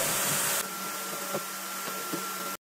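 Vacuum cleaner running steadily on an apartment balcony during house cleaning, a continuous broadband whir with a steady tone, loud and close, briefly louder at the start and cutting off abruptly at the end.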